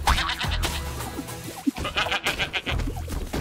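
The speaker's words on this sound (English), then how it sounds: "Sheep." Cartoonish sheep bleats from the video game Bang-on Balls, several wavering calls in quick succession amid game sound effects and background music, fairly close and clear.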